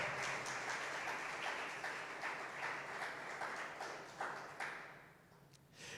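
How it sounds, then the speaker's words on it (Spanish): Church congregation clapping for the Lord during a Spanish-language sermon, dense steady applause of many hands that carries on at a lively pace and tapers near the end. "Dele fuerte esas palmas al Señor."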